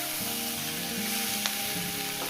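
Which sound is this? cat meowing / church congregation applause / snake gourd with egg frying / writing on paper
snake gourd with egg frying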